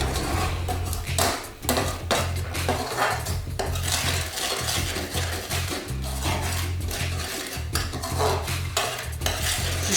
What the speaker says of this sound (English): Just give that a stir in, mix it up a little bit.